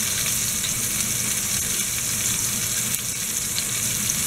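Venison shanks browning in hot oil in a skillet, giving a steady, loud sizzle and crackle of frying that holds unbroken throughout, with no voices.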